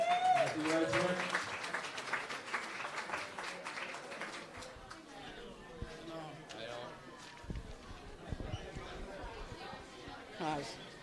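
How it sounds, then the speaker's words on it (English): A gathering at a celebration of life for a late man gives a round of applause. The clapping is moderate and fades quickly into murmured chatter and footsteps in the room. "Do you want to give a round of applause for Jenny here, guys?"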